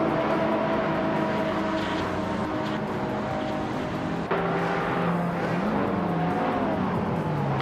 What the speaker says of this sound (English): the race is kicking off at Califat with the 1980 supercars